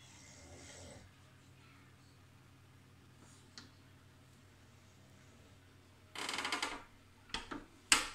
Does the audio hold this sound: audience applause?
no